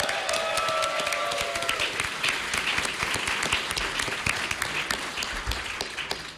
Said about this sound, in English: Let's have a huge round of applause for all the kick-ass costumes.